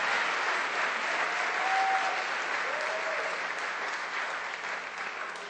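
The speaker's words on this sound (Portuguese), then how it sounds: "Forte aplauso ao Senhor, querido." Steady applause from a church congregation during a Sunday service, a dense wash of clapping that holds at an even level for several seconds, with faint voices calling out beneath it.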